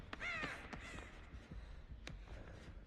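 A crow caws in Dead by Daylight, a few harsh calls near the start over soft game ambience, fairly faint and without talk.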